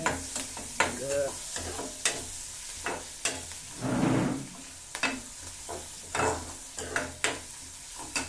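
Garlic sizzles in hot oil with mustard seeds and cumin in a pan, a steady fry broken by repeated sharp scrapes and clinks of a stirring spoon, close up.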